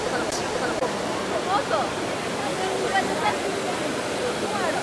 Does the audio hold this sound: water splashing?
yes